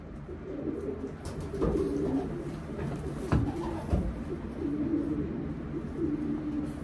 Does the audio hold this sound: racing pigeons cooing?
yes